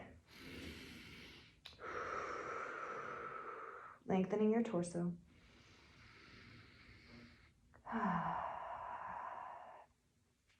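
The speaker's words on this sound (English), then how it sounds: "I know breathing is loud in yoga, it should be." Heavy, audible breaths in and out alternate with a calm spoken voice, one breath ending in a rough, snorting exhale.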